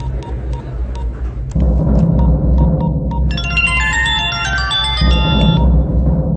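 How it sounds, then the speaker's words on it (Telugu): A brief melodic phone ringtone chimes over a steady low rumble of background noise, in a movie scene. "बज रहा फोन, बात करेंगे."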